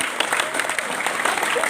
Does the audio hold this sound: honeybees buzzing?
no